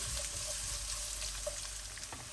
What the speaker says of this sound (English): So my onion's been frying for a while and it's starting to get translucent and slightly brown as well.